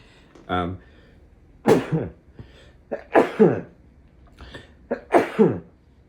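Several short, sharp sneeze-like bursts break up the quiet, coming in separate spurts a second or so apart, close and fairly loud, with a brief voiced sound at the start.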